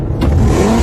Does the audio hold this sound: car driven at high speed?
yes